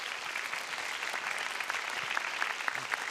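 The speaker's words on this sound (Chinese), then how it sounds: "掌声欢迎李执行长。" An audience applauds to welcome a foreign ministry guest executive onstage at an award ceremony, a moderate, steady clapping from a crowd with some distinct claps standing out near the end.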